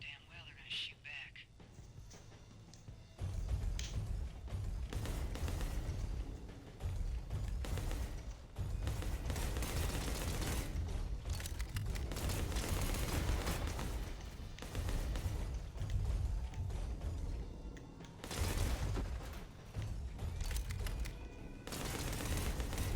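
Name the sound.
gunfire in a shootout, from video game Bounty Star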